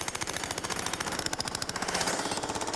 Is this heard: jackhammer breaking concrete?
yes